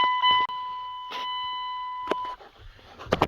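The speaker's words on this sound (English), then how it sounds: "Wish I could find that buzzer," A Dodge Ram truck's warning buzzer beeps repeatedly in long sustained electronic pulses, fairly close, with clanks and handling noises around it and briefly afterward.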